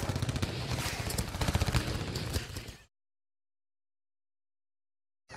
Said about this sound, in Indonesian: Itu rupanya ada hajatan. Oh, hajatan. Lagi bakar petasan.